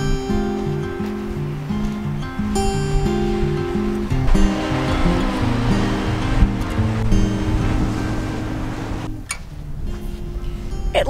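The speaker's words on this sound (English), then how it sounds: "It looks like the beach here." Waves wash onto a beach with peat underfoot, a steady, loud surf roar that runs continuously and dips briefly near the end, layered with low droning tones.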